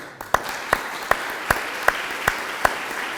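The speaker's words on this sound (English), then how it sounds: "Let's give them a round of applause." Sharp claps land one at a time in a slow, regular rhythm, about one every 0.4 seconds, over a hushed room tone, at a Veterans Day service.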